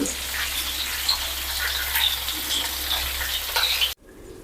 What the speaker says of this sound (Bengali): এখন আমি কিছু মরিচ ঢেলে দিচ্ছি